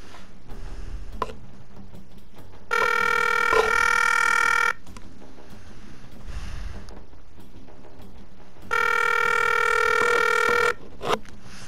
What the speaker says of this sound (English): I'm calling my friend.